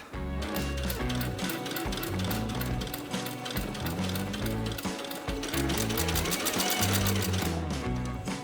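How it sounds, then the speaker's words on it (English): A sewing machine joins a denim jumpsuit bodice to the pants, its motor running loud and steady with rapid needle ticking throughout, underneath constant background music. "I moved on to sew the bodice and the pants together, just matching everything up."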